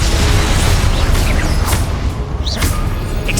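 Blasting-spell explosion in the Hogwarts Legacy video game: a loud, dense burst of noise that fills the clip with a heavy low rumble and crackling debris, sustained at constant volume with no talk.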